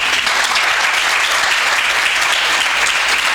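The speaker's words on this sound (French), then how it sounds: "mesdames et messieurs, veuillez applaudir les cours Anne-Marie Javoué." Loud, dense applause from the audience at a school eloquence contest, an unbroken wash of clapping that stays at full strength from start to finish.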